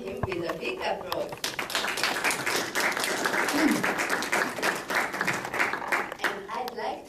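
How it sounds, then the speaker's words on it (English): An audience at the BGF-G7 Summit Initiative conference in Tokyo claps in a dense burst of applause that swells and then tapers, with voices speaking at the start and end. "Please welcome him with a big applause."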